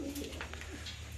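A racing pigeon coos softly and briefly, once and low, in a quiet setting as racers return from a 150-mile race.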